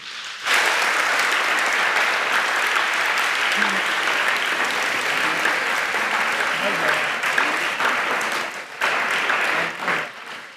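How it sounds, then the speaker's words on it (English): An audience applauds New World School at a school competition, a dense, loud, continuous wash of clapping that holds for about ten seconds before briefly dipping and picking up again. "Please, can you give them a round of applause?"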